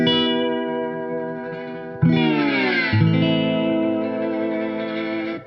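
Beard Trailhead lap steel guitar in a minor tuning, sustained notes and chords sliding with reverb and effects, a fresh pitch bend entering midway before settling into long ringing tones. Loud, close and without speech.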